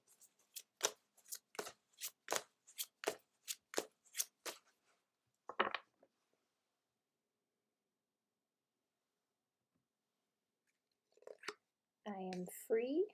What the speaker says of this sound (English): Next, we'll pull a card from the How to Love Yourself Affirmation deck.